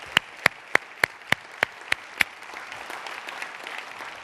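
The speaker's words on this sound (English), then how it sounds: "let's have a round of applause from them as well" Applause at a leadership conference closing session, opening with eight loud, evenly spaced single claps close by, then settling into softer, diffuse clapping from the wider room.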